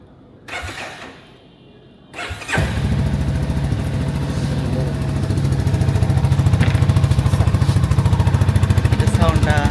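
A tuned CFMoto motorcycle starts up and settles into a steady, close rhythmic idle that firms up slightly toward the end, preceded by brief handling noises and quiet talk.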